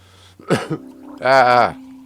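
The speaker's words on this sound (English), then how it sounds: "Coughing." One person gives a couple of short harsh coughs and then a longer voiced throat-clearing rasp, close and fairly loud, with a low steady hum behind it.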